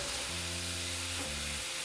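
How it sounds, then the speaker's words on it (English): Carne asada meat sizzling in a pan, a dense steady frying hiss throughout with a low steady hum running underneath it. "I'm just going to be cooking my meat for about 4 minutes"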